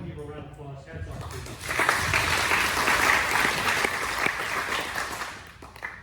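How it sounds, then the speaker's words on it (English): An audience at a Republican primary forum for Texas House District 45 claps, the applause swelling after a second or two and then holding steady before tapering, with voices mixed in. "Suzanne, everyone give a round of applause"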